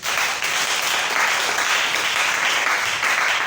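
A church congregation breaks into dense, sustained applause, many hands clapping steadily and loudly throughout with no break.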